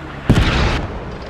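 A single loud, sharp missile explosion in the game Squad erupts and rumbles for about half a second before fading into low noise.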